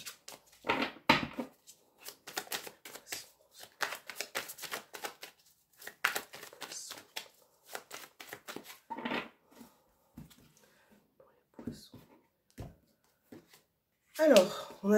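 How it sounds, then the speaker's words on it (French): Tarot cards are shuffled and flipped over: clusters of quick, close papery flicks and taps, some in busy runs and some scattered, quieter at times, with a louder rustle near the end. "Plein de cartes qui se retournent."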